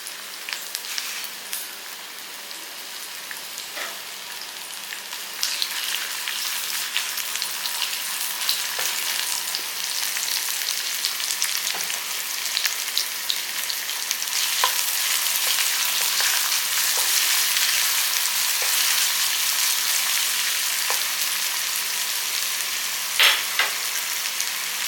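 A handful of small onions fry in about two spoons of hot oil, giving a continuous crackling sizzle with scattered pops that grows slightly louder over time, and no voices.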